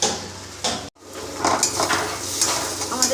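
Ridge gourd paste cooking down in a pan, with close stirring scrapes and a constant sizzle, briefly cut to near silence just before the one-second mark, then resuming with soft clinks of the utensil.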